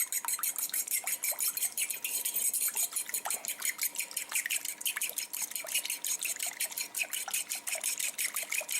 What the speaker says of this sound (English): Stir that up real good.